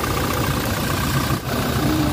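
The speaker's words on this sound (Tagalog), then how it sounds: "start natin makina guys" A Toyota Fortuner with the 2GD diesel engine and automatic transmission idles right after starting, giving a steady, close, even rumble with no talk.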